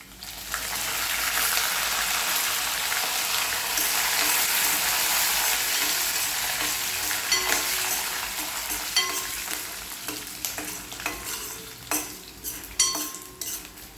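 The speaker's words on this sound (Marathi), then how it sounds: "आता आपल्याला कढीपत्ता टाकून घ्यायचा आहे." Curry leaves sizzle loudly in hot oil with peanuts, a steady crackling hiss that later gives way to metal stirring and scraping in the pan.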